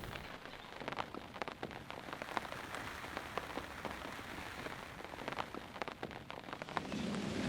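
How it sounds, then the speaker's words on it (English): Heavy rain pours down steadily over a fishing lake, a dense continuous hiss with scattered sharper drops and patters landing nearby, no voices. "the rain is absolutely hammering down"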